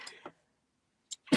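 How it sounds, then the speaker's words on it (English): A single sneeze bursts out near the end after a short sniffling breath and a quiet pause, close to the microphone and fairly soft. "I'm going to sneeze."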